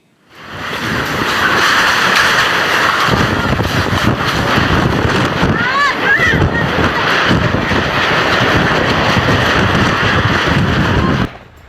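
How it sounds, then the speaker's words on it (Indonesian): Strong whirlwind winds with heavy rain in Subang, West Java, a loud continuous roaring rush with buffeting on the microphone, steady for about ten seconds before cutting off. "Angin kencang disertai hujan deras menyebabkan atap rumah warga terangkat dan sejumlah pohon"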